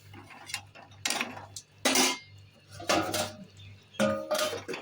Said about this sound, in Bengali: এখন আমি একটু ঢাকা দিয়ে রাখি